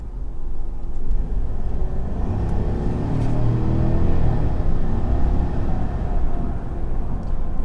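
A 2019 Chevrolet Silverado LT Z71 pickup engine in sport mode rumbles and revs steadily up close, a deep continuous drone that swells slightly mid-way, with no talking.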